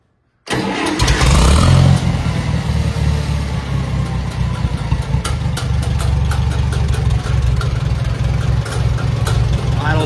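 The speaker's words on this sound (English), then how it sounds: "Idle's real nice," A small tractor engine starts and settles into a steady idle: a loud, even low rumble with a regular mechanical chug, running continuously and close by.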